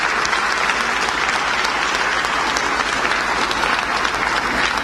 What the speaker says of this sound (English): Let's have a round of applause for them as well